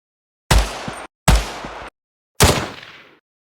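Three loud, close rifle shots at a shooting range, the first two in quick succession and the third after a short pause, each a sharp crack followed by a brief decaying echo, with silence around them.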